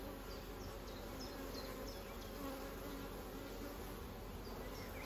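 Honey bees fly around their hive in spring, a steady dense buzzing swarm heard continuously at close range, with faint birdsong chirps above it and no voices.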